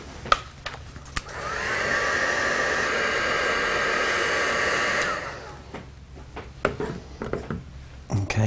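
A heat tool blows a steady, loud whooshing hum for about four seconds to dry a mixed media craft tag, then cuts off, leaving faint clicks and handling noises.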